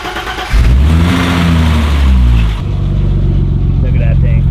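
Old school BMW E30 engine starting up and revving hard, loud and close, climbing and falling in pitch before settling to a rough idle, with voices talking over it.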